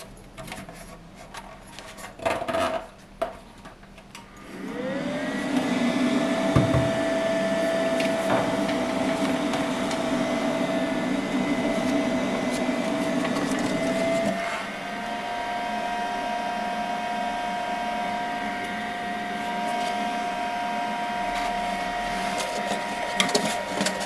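A D2 air purifier for laser engravers starts up after a few faint knocks, then runs as a steady, fairly quiet whirring fan hum with a slight drop in level partway through.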